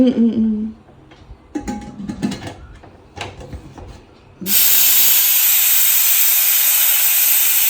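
After a few scattered clinks and knocks, a loud, steady hiss of steam bursts out of a pressure cooker close by and keeps going without a break.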